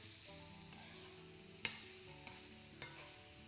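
Finely chopped cauliflower sizzles softly in a pan while being stirred round, a faint hiss with a few sharp utensil knocks, under quiet tonal background music.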